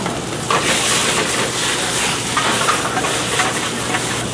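Loud, continuous sizzling and crackling of whole garlic cloves and capers frying in a hot pan, close up, a dense steady hiss with small pops throughout.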